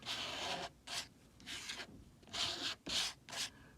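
Watercolor paint being scraped on paper: short, dry rasping strokes in bursts separated by brief pauses, close and fairly quiet, with no voices.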